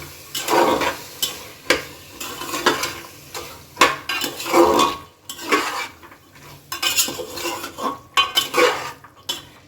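Green peas for ghugni being stirred and mixed with spices in a pan, with repeated scraping and clattering of a spatula against the metal in irregular bursts, fairly close, no talking.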